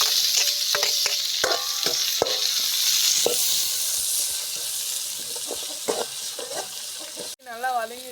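Tomatoes sauté in a pan with a bright, steady sizzle and frequent spatula scrapes and taps close by; the frying cuts off near the end and a voice speaks.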